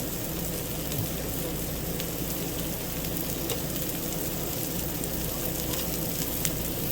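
Diced, rinsed portobello mushrooms and onions sizzle steadily on a Blackstone griddle, a dense, even crackling hiss that continues without pause from start to finish.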